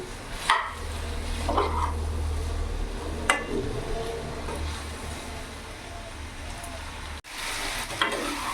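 Squash curry being stirred and sautéed in a pan, a steady sizzle with scraping stirs and a few sharp clinks, a low hum running underneath throughout.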